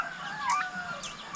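Hens on a small farm flock, kept after a disease outbreak killed many birds, give a brief thin cackle and call, moderately close and alone, with no talking.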